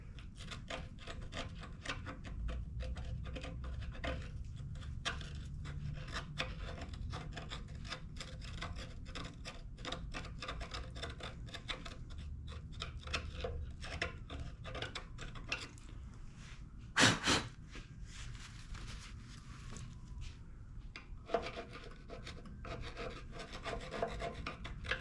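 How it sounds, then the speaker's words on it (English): Steady scraping and rasping as a screwdriver digs carbon deposits out of a Snapper push mower's Quantum engine, a close, continuous gritty rub with one sharp louder scrape partway through. "I need to take my screwdriver and scrape out some of that"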